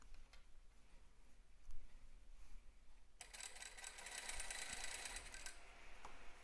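Sewing machine stitching fabric close to the edge, a quiet soft ticking at first, then a faster, louder whirring run of stitches for a couple of seconds before it eases off again.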